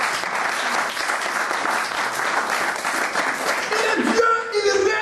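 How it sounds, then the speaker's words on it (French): A church congregation applauding during a French-language sermon, a dense, sustained wash of clapping that fills the whole stretch, with a voice rising over it near the end. "Acclame Jésus pour la révélation de la parole."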